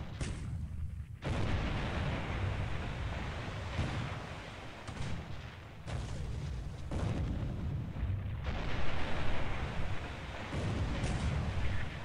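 Heavy booming blasts and rumbling detonations from a naval warfare video game, an eight-inch gun shell striking the cruiser Kuma and setting off internal explosions, form a dense, continuous, loud barrage with repeated sharp impacts.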